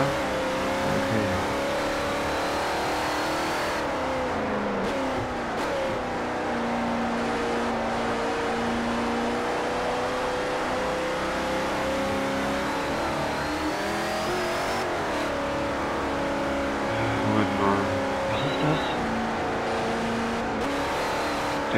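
Car engine in the racing video game Forza 4, revving steadily and loudly with rising and falling pitch throughout, a continuous close engine drone with no talk over it.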